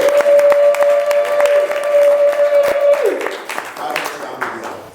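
Applause rises from a church congregation in steady, dense clapping under a sustained sung or organ tone and voices, continuing throughout before tapering slightly near the end.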